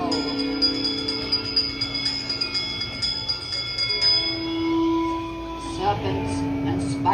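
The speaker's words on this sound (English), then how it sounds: "give us a hint by ringing a bell" A bell rings out during the séance scene in Disneyland's Haunted Mansion, sustained tones ringing over music and voices in the dark ride, with a steady tonal hum throughout.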